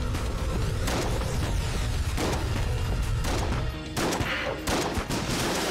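A shotgun fires in the game Enter the Gungeon, heard as loud, rapid, repeated blasts with crashing impacts amid busy combat noise throughout.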